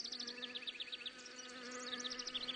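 An Asian hornet hovers close to a beehive, its steady droning buzz wavering in pitch with rapid wingbeat pulses. The sound is continuous and fairly close, with no voices.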